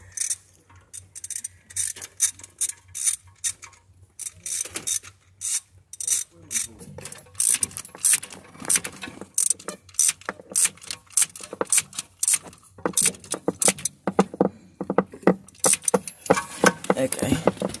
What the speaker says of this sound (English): Okay, taking out this spark plug.